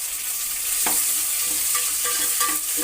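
Onions and green chillies frying in hot oil, a steady close sizzle with occasional stirring scrapes of a spatula in the pan, no voices.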